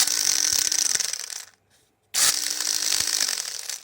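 A small electric motor driving window blind gears at 12 volts whirs with a ratcheting mechanical grind, running loudly and close, cutting out to near silence for about half a second, then resuming at the same level.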